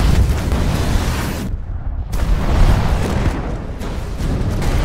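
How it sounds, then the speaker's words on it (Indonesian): A dense, roaring rumble of an explosion set off by an earthquake, with continuous crackling and booming blasts, briefly dipping before surging again. "Akibat dari ledakan tersebut"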